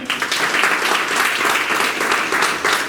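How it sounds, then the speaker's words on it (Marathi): Students at a guidance camp break into loud, dense applause for their parents, sustained clapping from a large group close by for the full few seconds. "आई वडिलांसाठी एकदा जोराने टाळ्या होऊ दे।"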